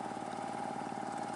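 Chinese D30 water well drilling machine, a Vietnamese workshop build, runs with a steady droning engine hum and constant rhythmic vibration, loud and close throughout with no talk.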